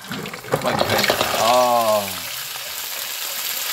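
Tuway-tuway clams sizzle and hiss as they are sautéed in a hot pan. The frying noise stays steady throughout while a person talks briefly over it.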